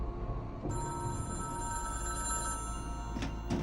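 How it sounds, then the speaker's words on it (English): A telephone rings with a bright, steady electronic trill that starts a moment in and continues at moderate loudness, with a couple of short clicks or knocks near the end and no talking. "Keep ringing that phone"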